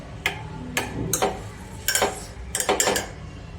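Metal clanks and scrapes as a pressure cooker lid is opened after cooking dal, with several sharp separate knocks and rattles close by and no talk.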